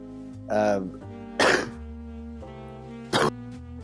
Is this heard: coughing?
yes